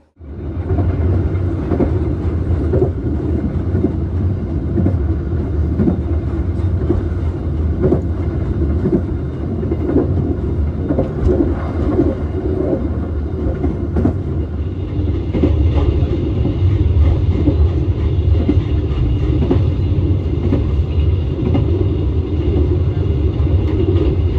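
KA Motis, a long-distance train bound for Cilegon, rumbles steadily from onboard with a deep continuous roar and faint rhythmic clatter of wheels on rail joints, growing slightly brighter midway.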